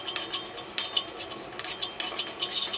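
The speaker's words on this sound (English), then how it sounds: "again stirring continuously to ensure that everything is well combined" A spoon stirs salt and sugar into a chana bean rice mixture with ginger in a pot, giving steady, close scraping and clinking against the pan with soft, mushy churning.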